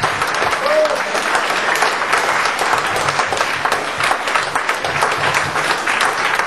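Sustained audience applause filling a hall at a tribute evening for Pierre Bourgault, a steady dense wash of clapping with some crowd murmur underneath.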